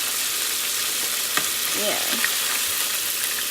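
Chicken wings deep fry in hot oil with a steady, close sizzling hiss. A voice is heard briefly.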